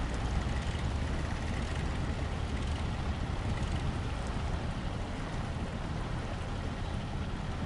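A truck in the video game Snowrunner churns through deep water, a dense steady roar of engine and sloshing that holds evenly throughout without any voices.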